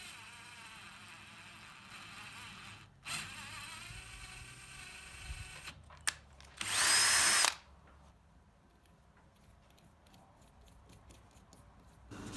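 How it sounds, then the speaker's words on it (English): A battery drill drives a bottoming tap to cut threads for a homemade disc sander, a quiet whirring with short bursts and one loud high burst in the middle, then faint clicks. "finished the threads off using the bottoming tap in the battery drill"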